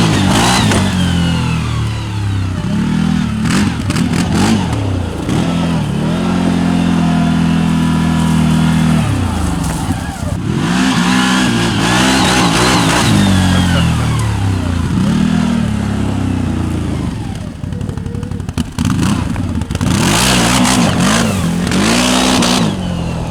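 CFMOTO CFORCE 800 ATV fitted with a Stage 2 MSC clutch kit, engine revved hard repeatedly: loud, close rising and falling roars with several distinct throttle blips and sustained high-rev pulls.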